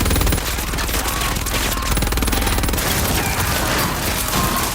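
Sustained machine gun fire in a World War II film battle scene against Nazis, dense rapid bursts overlapping with loud gunfire throughout.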